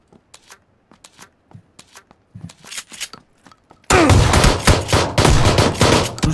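Video game gunfire in PUBG, starting as sparse sharp shots and clicks, then turning into dense, loud automatic fire with rapid overlapping bursts in the second half.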